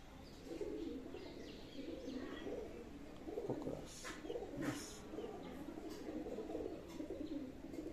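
Pigeons coo in a pigeon loft, soft overlapping low burbling calls repeating across the whole stretch, fairly quiet, with occasional rustles and chirps.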